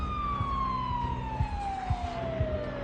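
A vehicle siren in the zombie-survival game Project Zomboid: a single long tone slowly gliding downward, held at a moderate level throughout, with faint repeated knocks and game ambience beneath and no talk.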